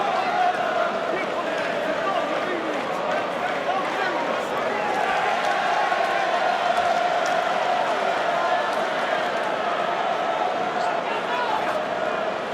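A packed boxing arena crowd cheers steadily as a celebrity stands and waves from the second row, a dense, continuous roar of many voices at a fairly constant level throughout.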